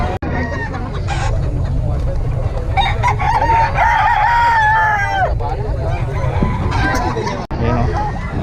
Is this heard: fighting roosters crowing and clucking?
yes